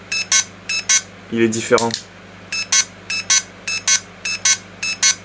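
A G&P Magpul M4 airsoft gun's electronics emit a series of short, sharp electronic beeps in evenly spaced pairs and triples, loud and close, with someone briefly speaking in the middle.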